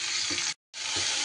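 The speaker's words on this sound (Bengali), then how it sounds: "ঝিঙেগুলো দিয়ে আমি ভালো করে ঘিয়ের মধ্যে একটু নাড়াচাড়া করে নেব।" Ridge gourd pieces stirred in ghee in a pan, a steady sizzle with a brief silent break in the middle before the frying noise resumes.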